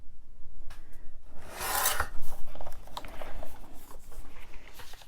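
Paper being trimmed for a mini album, a short bright rasping cut followed by soft rubbing and light scraping of paper at close range, quiet and without talk.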